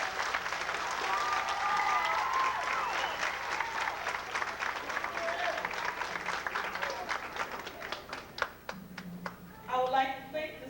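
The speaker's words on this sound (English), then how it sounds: "I would like for you all to give her a round of applause." A round of applause from the audience at a 1992 high school ceremony, steady and moderately distant, continuing for about ten seconds and tapering into scattered claps with a brief bit of talk near the end.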